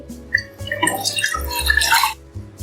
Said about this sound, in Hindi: खुले बर्तन में 4 गिलास पानी लेंगे।